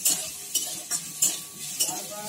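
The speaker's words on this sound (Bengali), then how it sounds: "পেঁয়াজটা ভেজে নিই।" Onions fry in a pan after okra has been fried, with a soft sizzle under rhythmic scraping strokes of a spatula, about five close stirs in quick succession.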